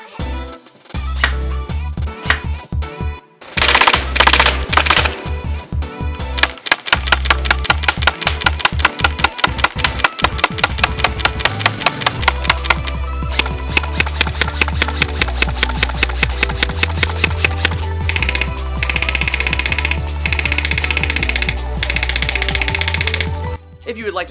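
Amoeba M4 series airsoft guns firing in rapid full-auto bursts, a loud mechanical rattling chatter with brief pauses between strings of shots, close to the listener.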